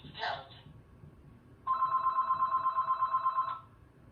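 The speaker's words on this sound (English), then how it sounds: "sorry about the phone" A telephone rings once indoors, a steady electronic trill lasting about two seconds, clear and moderately loud against a quiet room.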